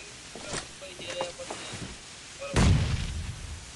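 Gunfire in the battle-royale game Knives Out: a few faint distant shots early on, then one loud heavy boom with a decaying rumble, under a Japanese player's quiet voice chat.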